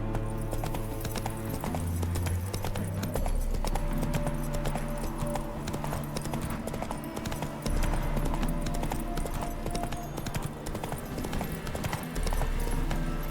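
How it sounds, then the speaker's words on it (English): Steady rhythmic clip-clop of a horse galloping in the Witcher 3 video game, hooves pounding close and loud over a continuous game music bed, with an occasional whinny. "Whoa there, Roach"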